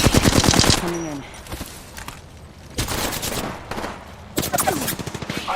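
Enemy gunfire in a first-person shooter video game, loud rapid machine-gun bursts separated by short quieter gaps, with clipped in-game chatter and game effects sounding between the volleys.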